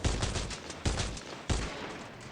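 Two nail guns firing in a vehicle-building video game, rapid repeated bursts of sharp, loud impacts in three clusters separated by brief pauses.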